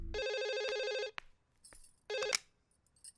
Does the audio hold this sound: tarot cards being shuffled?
no